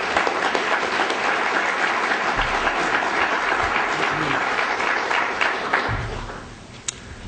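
A symposium audience applauds to welcome a speaker, a steady, dense clapping that holds evenly for several seconds and then thins and fades toward the end.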